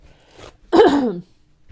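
A single short, harsh cough bursts out after a faint breath, then silence.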